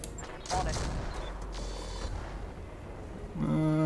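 A mech fires its weapons in the BattleTech video game with the RogueTech mod, producing rumbling bursts and booms layered over steady game noise and a tonal sound effect near the end.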